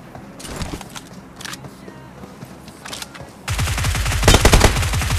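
Gunfire erupts in a BGMI battle: a few scattered shots early on, then a loud, rapid automatic burst that rattles continuously through the final two seconds.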